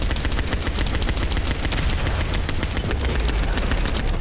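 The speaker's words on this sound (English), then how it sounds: "I'm gonna keep rotating and keep shooting when I have the chance to." Sustained rapid-fire shooting in a looter-shooter boss fight against Dead Bride, a loud, dense stream of evenly spaced shots running unbroken throughout.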